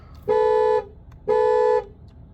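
A Golf Mk8.5 car alarm, triggered by a Nitro Pro Plus immobiliser, sounds its horn in two loud, evenly spaced toots of about half a second each.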